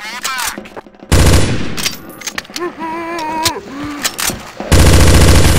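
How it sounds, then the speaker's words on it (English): Bursts of automatic gunfire ring out in Counter-Strike: Source on the zombie escape map ze_shroomforest2, first a loud rapid volley and later another close burst, with someone talking in the quieter gap between them. "Who's that shooting us?"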